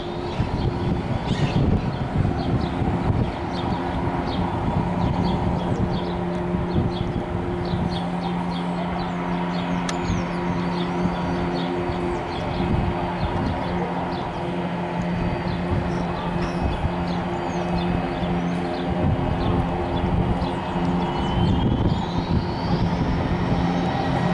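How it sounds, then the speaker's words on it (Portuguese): Aircraft engine roaring steadily and loudly for the whole stretch, a dense unbroken drone with no pauses or clear changes in pitch. "pessoal, olha o ronco do motor."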